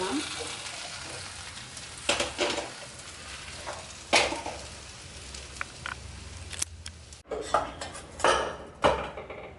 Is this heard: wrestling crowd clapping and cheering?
no